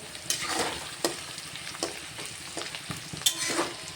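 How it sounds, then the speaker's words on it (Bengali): Onions frying in a pan and stirred for reddish browning, with a soft constant sizzle and a spatula scraping at irregular intervals, close and fairly quiet. "পেঁয়াজটাকে লাল করে ভেজে নেব"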